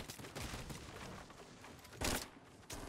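Pump shotgun blasts in the video game Fortnite Battle Royale: a few faint, sharp bursts, with the loudest burst about two-thirds of the way through and a last one near the end.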